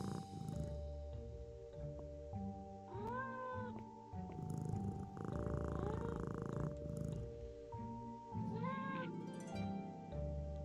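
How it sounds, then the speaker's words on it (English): A cat in a cathedral setting in a Nancy Drew game purrs steadily with a few rising meows near the start, middle and end, close and moderately loud over soft background music. "Oh yeah, oh, there's a cat."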